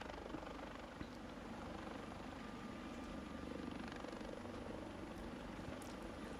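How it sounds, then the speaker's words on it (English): A helicopter's steady rotor drone and engine whine fill the whole stretch at a moderate distance, continuous and even, with no talking over it. "We could play this one showing the helicopter."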